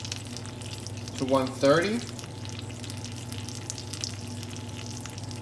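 Pan-roasted chicken breast sizzles quietly in a pan, a faint steady hiss with a low background hum, interrupted by a brief louder rustle and a few spoken words.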